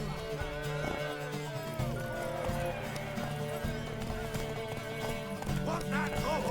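In The Witcher 3: Wild Hunt, a horse gallops in a rapid, continuous clip-clop of hooves amid game music and ambience, with a whinny heard over the busy mix.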